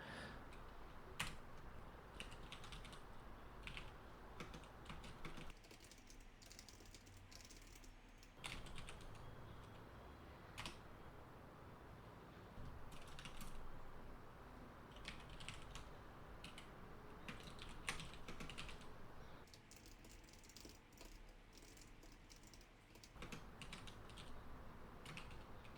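Steady typing on a computer keyboard while working in the Emacs 29 text editor, with quick, irregular clicks running throughout and brief pauses, close and clear with no talking.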